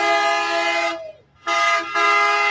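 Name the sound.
truck horns honking at Ottawa protest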